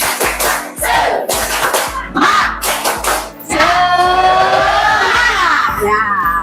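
A classroom of children claps in quick rhythmic bursts as a class chant, then erupts into loud, sustained shouting and cheering together.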